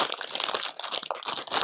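Plastic LEGO parts bag for the 2025 LEGO City 60460 No Limits Race Car Ramp Track set being crinkled and torn open, a close, brief burst of sharp rustling and crackling without speech.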